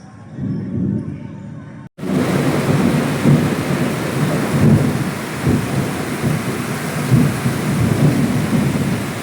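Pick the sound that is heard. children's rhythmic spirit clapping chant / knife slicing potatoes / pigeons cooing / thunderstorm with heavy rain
thunderstorm with heavy rain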